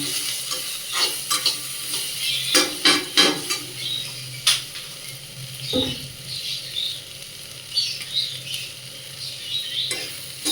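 Green papaya frying in a little ghee in a pan over a medium gas flame, with a steady soft sizzle and scattered scraping stirs and clinks of a spatula against the pan, no one speaking.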